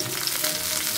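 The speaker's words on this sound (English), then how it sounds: "Can you just hear that sizzle?" Lamb chops sizzle in a hot pan, a close, crackling hiss with small pops, steady and fairly quiet.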